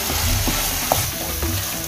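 A ricotta and parmesan filling cooking in a pan for Moroccan stuffed bread, short scraping stir strokes over a low steady sizzle, close and moderately loud.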